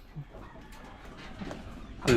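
Chickens in their coop, under a newly built roof, give a brief low cluck early on, then a loud, sharp squawking burst right at the end over quiet ambient noise.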